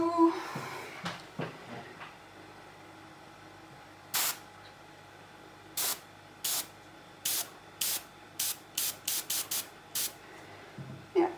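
An airbrush spraying colour resin pigment in a mixed-media deep-sea art project gives a series of short, sharp hissing bursts, sparse at first and then coming quickly one after another, close and fairly loud, with no talking.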